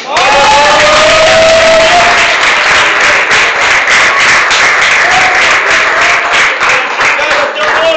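A church congregation clapping and cheering loudly during worship, a thick continuous roar of hands with raised shouting voices riding over it throughout.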